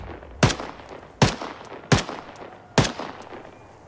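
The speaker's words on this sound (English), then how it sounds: "Now I hear shots." Four sharp gunshots crack out at roughly even intervals in Arma 3 on the Altiplano map, each a loud close report with a short decaying tail, alone without talk.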